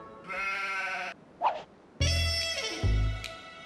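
Welsh mountain sheep bleating outdoors in Snowdonia, North Wales: a long wavering bleat, a brief call, then another loud drawn-out bleat close by, with no talking.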